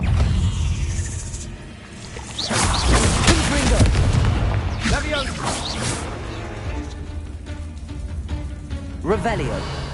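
A Confringo fire spell exploding in Hogwarts Legacy, booming blasts and rumbling impacts rising and falling over several seconds, loud and close, with a voice speaking over the action.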